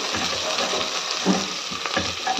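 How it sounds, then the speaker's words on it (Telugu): Onions fry in a pan with a close, steady sizzle and soft stirring scrapes, with no voices. "ఇలా బాగా ఫ్రై అవ్వాలి"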